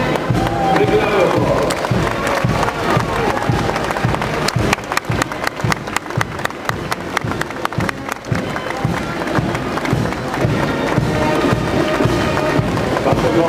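Parade crowd at the Morley St George weekend breaks into sustained applause and cheering for the volunteers, dense clapping filling the street with a steady roar and scattered sharp claps.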